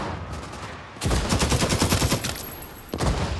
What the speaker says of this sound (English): there's bullets coming for us now